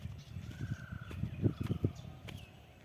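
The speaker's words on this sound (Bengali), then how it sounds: "চারিদিকে পাখির ডাক শোনা যাচ্ছে" Several harsh crow caws burst out in a quick cluster over soft outdoor ambience, with a faint bird call drifting in the background.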